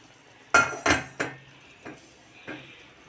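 A spoon scrapes and knocks against a metal pot of kuzu kapama, Turkish lamb stew, giving a few sharp clinks and then softer taps spaced apart, close and clear, with no talking.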